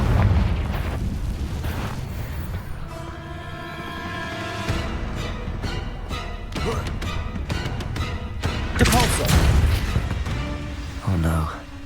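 Confringo spell fired in the Hogwarts Legacy video game, bursting in a loud, roaring explosion with crackling debris and rumble that swells toward the end, heavy and close.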